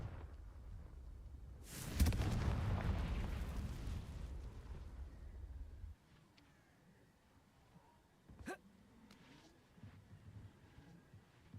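The Confringo explosive spell going off in the Hogwarts Legacy video game: one loud burst with a roaring rumble that lasts several seconds, then cuts off, followed by quieter scattered game sounds and a single sharp pop.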